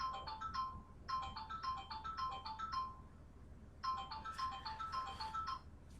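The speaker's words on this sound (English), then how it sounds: "That's just my phone." A mobile phone ringtone plays a bright, repeating melodic chime pattern in short bursts separated by brief pauses, fairly faint and heard alone.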